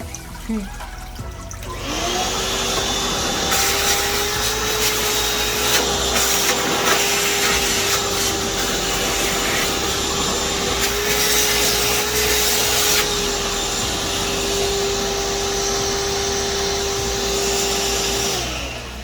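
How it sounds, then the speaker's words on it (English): A shop vac runs steadily with a loud close whine and roar while sucking snails and water from a shrimp pond, with gurgling, slurping surges as the nozzle moves. "now I'll show you Snail Control with the shop vac"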